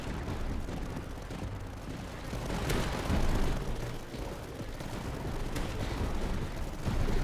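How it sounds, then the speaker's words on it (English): Roof-mounted pulse cannon firing in the tower defense game Tower Dominion against shielded enemies: a steady dense roar of bursts and impacts, with a few sharper cracks standing out, loud and continuous, no talk. "Pulse cannon putting in work with those shields."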